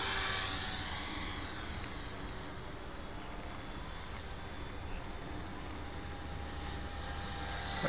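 An LH 450 electric RC helicopter with a YEP 40A speed controller in governor mode flying outdoors, a steady, fairly distant whine and rotor drone holding an even pitch throughout, with no talking.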